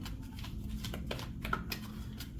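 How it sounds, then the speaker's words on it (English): A deck of cards is shuffled up close, a steady papery riffling and flicking over a low background hum. "We're going to shuffle from one more deck here for you"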